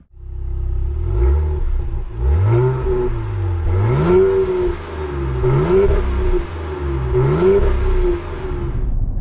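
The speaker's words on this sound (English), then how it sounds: "With that inline-6 engine, it's just smoothly cruising along." A 2026 RAM 1500 pickup's inline-six engine hums smoothly inside the cab, its pitch rising and falling through several gentle gear changes as the vehicle accelerates.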